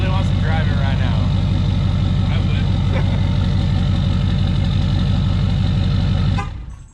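An LBZ Duramax diesel truck engine idles after weight reduction, a loud, steady, deep rumble with a rough pulsing beat that runs throughout and cuts off abruptly at the end.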